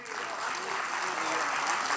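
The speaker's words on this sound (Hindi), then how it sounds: "आपकी तालियां कमज़ोर हैं साहब।" Applause from an audience at a Hindi poetry gathering, a steady wash of clapping that fills the whole moment without pause.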